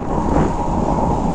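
A steady, loud outdoor wind roar buffets the microphone with a broadband rumble and no breaks, and no speech is heard.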